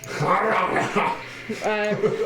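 A person voices a dog's bark during a tabletop role-playing game session, a short yelping imitation standing out briefly amid ongoing talk between players.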